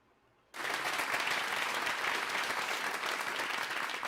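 Applause from a room audience bursts in abruptly after half a second of near silence, then holds as a steady, dense clatter of many hands through to the end, with no talking over it.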